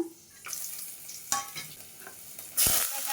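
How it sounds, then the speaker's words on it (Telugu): Crushed garlic cloves frying in hot oil for a chicken curry, a soft sizzle with scattered clinks and stirring scrapes, ending in a loud, brief burst of spitting hiss. "నూనె అయితే కాగింది. దంచిన తెల్లగడ్డ పాయలు వేసేద్దాము."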